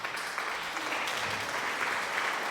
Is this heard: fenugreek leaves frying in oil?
no